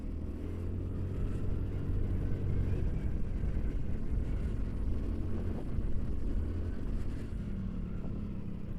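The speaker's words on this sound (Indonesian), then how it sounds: "Nah ini macet ini yang kita ragukan nih, macet pasar ini." Everyday traffic crawls through a congested market in Koto Baru where goods are being loaded and unloaded, with trucks among it. Engines idle and rumble continuously at a low, even level, with no voices audible.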